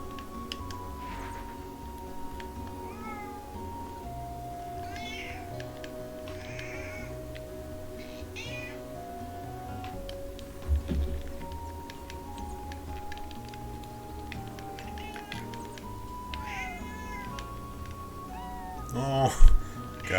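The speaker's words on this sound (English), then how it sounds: "Oh, guys, there's cats." Cats meow again and again in the video game Chrono Cross, their short rising cries repeating over game music while a player talks throughout.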